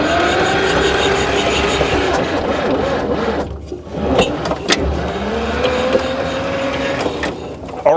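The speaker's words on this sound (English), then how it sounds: "you could certainly tell that the engine was building compression. The starter really slowed down" A 1959 Cat D7D bulldozer engine, left sitting for over ten years, cranks steadily on its starter, a continuous close mechanical churn that slows and labors briefly midway as compression builds, then carries on.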